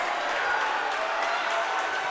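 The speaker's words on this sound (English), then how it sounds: "A lot of clapping on to the right of us in the Avonworth section" Steady clapping and crowd noise from the Avonworth fan section in a high school boys basketball gym, a dense, continuous wash of many hands with no single claps standing out.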